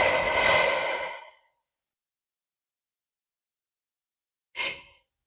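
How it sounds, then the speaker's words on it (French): One long, deep exhale fills the first second, followed by near silence and then a shorter, sharper breath, both close and clear with no talking. "Respire profondément."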